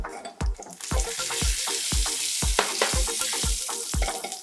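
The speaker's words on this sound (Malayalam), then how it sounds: "അതിലേക്ക് നമുക്ക് കുറച്ച് കറിവേപ്പില" Curry leaves and cumin seeds sputter in hot oil for a Kerala jeera rice dish, giving a continuous loud sizzle with rapid, evenly spaced crackling pops close by and no voices.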